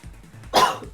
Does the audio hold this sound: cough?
yes